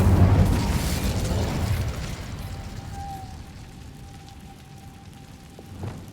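An Incendio fire spell goes off in Hogwarts Legacy with a deep burst and a rumbling whoosh, then fades into a low crackle as a thin tone lingers and a small pop sounds near the end.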